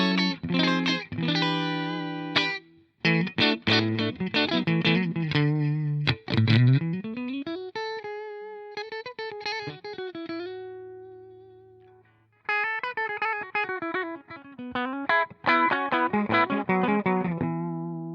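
Electric guitar played through an AmpliTube 5 amp model on its default setting with heavy spring reverb, distorted strummed chords and sustained bent notes that ring out into a long reverb tail, alone without talk.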